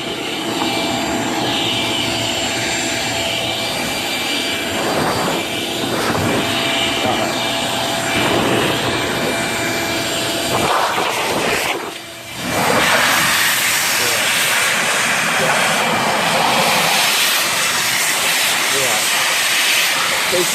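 Compressed air blowing through a GY6 scooter brake line, a loud steady rushing hiss that dips briefly midway then resumes strongly, heard up close.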